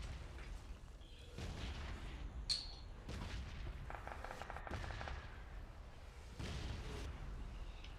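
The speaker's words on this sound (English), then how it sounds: "Airstrike. Please don't hit this position." Airstrike explosions in the PUBG battle royale game: several heavy booming blasts land a few seconds apart over a constant rumble of game noise, loud and close, with no one talking.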